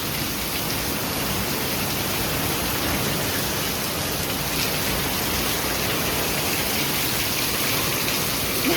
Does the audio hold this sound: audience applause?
no